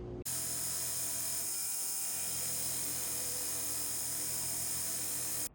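A power sanding tool works a stainless steel ring during resizing, giving a steady, loud, high-pitched whir that runs without a break for about five seconds, starting and stopping abruptly.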